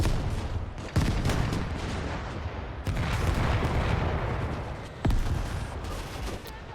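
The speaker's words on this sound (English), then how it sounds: "Well, our artillery went everywhere." Artillery barrage in the World War II strategy game Gates of Hell, set during the 1941 German invasion of the Soviet Union: dense, loud rumbling fire with heavy booms near the start, middle and end, rolling on without pause.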